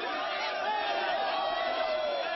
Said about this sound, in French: Le service d'ordre des jeunes patriotes a du mal à contenir la foule qui pousse.